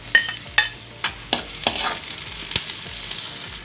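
Onions dropped into golden-fried garlic in a pan for salmon sinigang sa miso, a close sizzle with several sharp scraping strokes and clacks of a spatula in a quick irregular rhythm, easing into a steady hiss.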